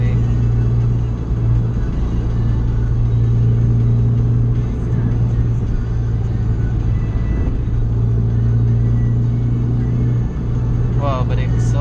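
A car with a newly installed MFactory 4.928 final drive accelerates, a steady loud engine and drivetrain drone with road rumble heard from inside the cabin.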